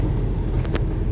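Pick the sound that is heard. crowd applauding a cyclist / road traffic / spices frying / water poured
road traffic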